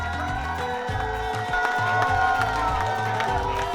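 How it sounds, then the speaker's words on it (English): Crowd of football fans in an Iranian restaurant cheering and shouting during an Iran versus New Zealand match, a steady loud roar of many voices with music and chatter mixed in. "The majority of the fans were cheering for the opposite team."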